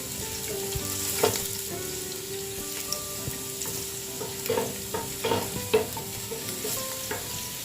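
Garlic sautéing in hot oil in a pan gives a steady close sizzle, with repeated scrapes and clinks of a spatula stirring through it.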